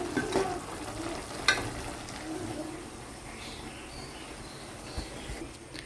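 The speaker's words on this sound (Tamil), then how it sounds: "குருமா வந்து சூப்பராக வெந்துட்டுருக்கு" Kurma curry bubbling in a pot on the stove, a soft steady simmering hiss with a few stirring scrapes and clinks near the start, close and moderately quiet.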